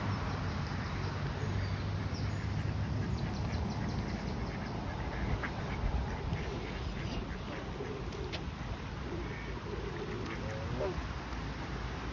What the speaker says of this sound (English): let me just feed these birds a minute